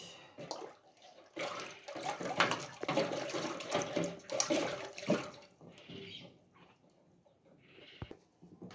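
Water pours and splashes in bursts into a sorghum drink to dilute it, for a traditional Rwandese party, with gurgling pours up front and quieter trickles after.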